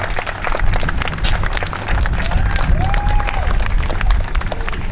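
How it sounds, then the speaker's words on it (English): Audience applause at the grand opening of a new business centre, a steady broadband wash of clapping from a crowd that holds evenly through the moment, with faint crowd murmur beneath and no clear voice over it. "Let's give Mary Lynn a very big round of applause."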